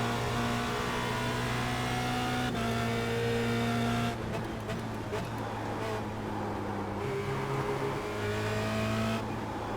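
A Formula Renault race car engine at Spa-Francorchamps in the iRacing sim wails loudly, its pitch climbing and dropping through gear changes, with other cars and brief tire noise in the mix.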